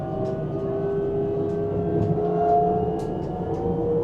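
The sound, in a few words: Abellio train accelerating after leaving Sangerhausen station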